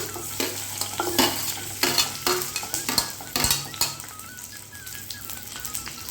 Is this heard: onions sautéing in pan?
yes